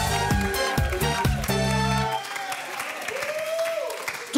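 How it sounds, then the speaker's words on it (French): A crowd claps and cheers loudly for a couple of seconds, then the applause fades into quieter room noise. "on va applaudir Romain et Solène"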